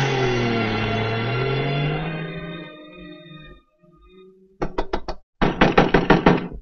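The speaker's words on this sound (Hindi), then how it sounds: "सुनीता दरवाजा खोलो" Knocking on a door in a Hindi film scene, two quick bursts of loud, rapid raps following a fading musical swell and a brief quiet gap.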